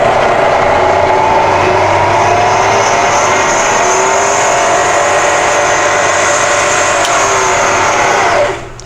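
A milling machine spindle in high range whines steadily as it runs up to 3000 RPM, a loud tonal hum with slowly shifting pitch that cuts off abruptly at the end, with no talking.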